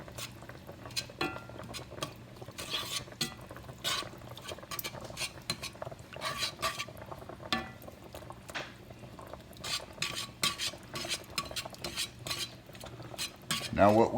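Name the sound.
stirring green chili into chicken mixture in pot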